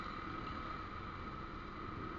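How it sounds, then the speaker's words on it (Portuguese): A motorcycle engine fitted with a newly replaced exhaust runs with a steady, even rumble, faint and unbroken throughout. "mostra o barulho novo. Acabei de trocar o escapamento."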